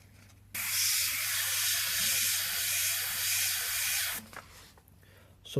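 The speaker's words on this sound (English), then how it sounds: "So the paint hits the surface and the overspray bounces off" An airbrush spraying paint onto a surface for a monotone portrait gives a steady, close, bright hiss lasting about three and a half seconds, then cuts off to quieter room sound.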